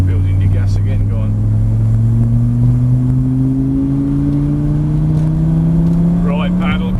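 A Lamborghini Gallardo accelerates hard on a track, its engine note climbing steadily and loudly, while a driving instructor talks over the roar.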